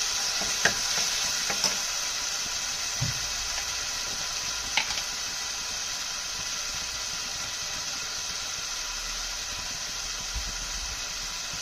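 Tomatoes and apple gourd (tinda) frying over a medium flame, a steady low sizzle running throughout with a few faint utensil clicks and stirring scrapes, no voices.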